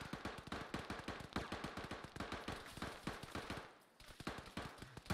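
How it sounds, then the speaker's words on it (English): Distant video-game gunfire pops in a fast, steady, popcorn-like rattle of shots, continuous for several seconds with a brief lull near the end, and no talk over it. "It sounds like they're shooting like a popcorn gun."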